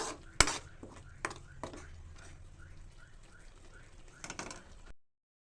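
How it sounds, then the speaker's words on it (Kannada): A spoon stirs tomato bath with jaggery in a cooking pot, giving light scraping and soft clinks, with one sharp knock early on and a brief rattle near the end, under quiet background noise. "ಆದ್ದರಿಂದ ಬೆಲ್ಲ ಸೇರಿಸಿ ಈ ರೀತಿ ಮತ್ತೆ ನಾನು ಅದನ್ನು ತಿರುಗ್ತೇನೆ"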